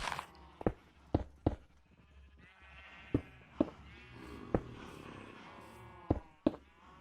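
Sheep in the game Minecraft bleat in a long, wavering call over a faint background, punctuated by several sharp, evenly spaced clicks and thumps of game actions.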